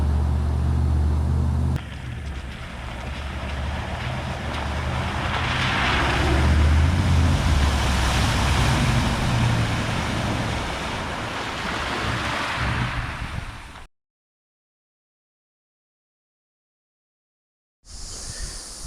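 A vehicle driving through muddy floodwater at the May River crossing in the Kimberley wet season, a steady loud rushing wash with a low rumble that swells and fades, then cuts to silence before briefly resuming.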